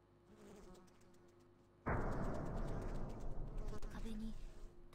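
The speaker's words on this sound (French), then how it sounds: "Ce sont de mouches. Quelle délice. T'as vraiment l'impression qu'elle tourne autour de toi." Flies buzz around the player in a science lab with a corpse in the horror video game Corpse Party: Book of Shadows, a steady droning hum that swells sharply midway and persists with faint game sounds beneath.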